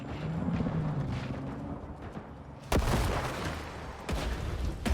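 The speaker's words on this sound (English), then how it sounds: "I hear a lot of shooting." Gunfire in Night City during a Cyberpunk-style game, several sharp broadband blasts cutting through a rumbling backdrop, with louder bursts near the middle and end.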